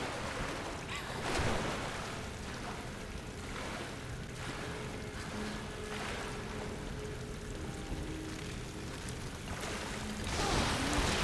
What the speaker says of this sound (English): So the waterfall is going to extinguish our torch